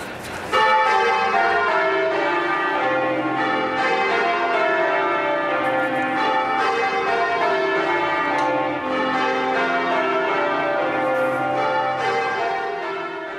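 London church bells ring continuously and loudly, overlapping peals with a rich, sustained metallic ring and no voices.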